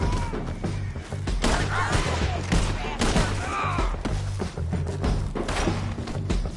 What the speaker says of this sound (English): Shoot the bastard!